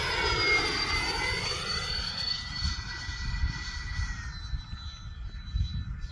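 Freewing A-10 80mm EDF RC jet flying overhead, a steady loud whooshing ducted-fan roar with a descending whine as it passes and moves away, continuous throughout.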